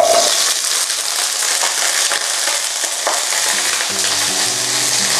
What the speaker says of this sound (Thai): น้ำมันร้อนแล้วผมลงกะหล่ำดาวเลย